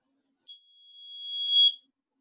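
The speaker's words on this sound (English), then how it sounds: "Can everybody hear that beep?" A single high-pitched electronic beep during a Zoom video call, starting with a short blip and then a sustained tone rising in loudness before cutting off, alone against silence.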